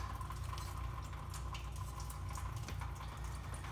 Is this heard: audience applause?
no